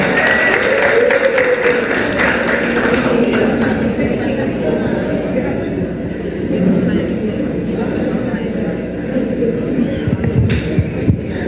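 Applause from an audience at a singing contest elimination round in La Unión, as a contestant is called to the stage; a steady, dense crowd wash with murmuring voices mixed in.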